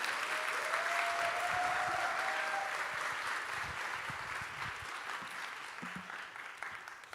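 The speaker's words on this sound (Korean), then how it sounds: "박수로 환영하도록 하겠습니다." A church revival service audience claps steadily for several seconds welcoming a pastor, the applause gradually thinning and fading toward the end.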